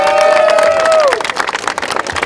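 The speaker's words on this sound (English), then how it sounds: "All right, everybody clap it up, man." At basketball tryouts, a group breaks into clapping and cheering, a dense crowd burst that starts loud and then thins into scattered claps as a whistle-like tone fades.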